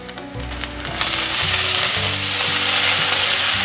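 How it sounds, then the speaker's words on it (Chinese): Preserved radish stir-fried in a hot pan with ingredients that are already frying, a loud continuous sizzle that swells after the first second, with rhythmic stirring underneath. "把菜脯炒香，炒至菜脯表面有点微焦"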